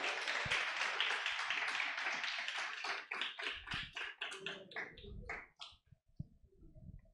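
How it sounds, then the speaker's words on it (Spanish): Applause from an audience at a tech meetup on bots in Mexico City: a full burst of clapping that thins into scattered individual claps and fades out, with faint room noise after. "Otro aplauso, por favor, estuvo muy chido"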